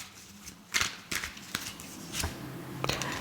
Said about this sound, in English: Let's pull a few oracle cards here.